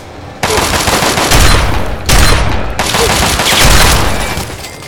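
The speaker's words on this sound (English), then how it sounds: "thank God I picked the shotgun, right?" Shotgun blasts from the video game Fallout 3 boom in quick succession, loud, dense bursts with brief gaps between volleys, filling the mix.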